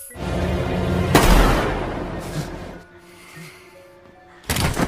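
A sharp, loud gunshot cracks out amid a tense, rumbling film scene, followed by quieter noise and a second burst of impact near the end.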